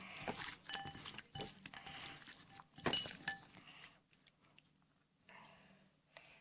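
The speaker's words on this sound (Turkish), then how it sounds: "Yine karıştırdım." A utensil clinks and scrapes in a bowl while a fish and oil mixture is stirred, with a run of close taps and clatters that fades into near silence with a few faint ticks.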